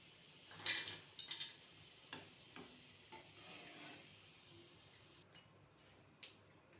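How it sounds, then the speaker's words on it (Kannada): Garlic and curry leaves fry in a pan with a faint, low sizzle, broken by a few sharp spoon scrapes and clinks against the metal. Everything stays quiet and close, and no one speaks. "ಇವಾಗ ಬೆಳ್ಳುಳ್ಳಿ ಕರಿಬೇವು ಉರಿತಾ ಇದ್ದೀನಿ"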